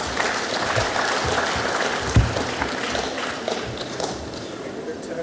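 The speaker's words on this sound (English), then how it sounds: "A round of applause once more" A convention crowd of school heads claps steadily in sustained applause, a dense wash of hand claps that continues throughout, with a sharp louder clap or knock partway through.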